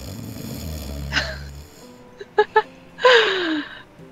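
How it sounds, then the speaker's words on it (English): A baby character in Roblox Adopt Me gives a few short, wheezy snoring and gasping breaths, close and distinct, following a fading low rumble at the start. "Do babies really snore like that?"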